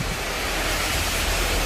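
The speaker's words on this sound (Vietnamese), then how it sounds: "Ôi trời mưa lớn quá." Heavy rain pours steadily during Typhoon No. 9 in Huế, a dense unbroken roar with no voices.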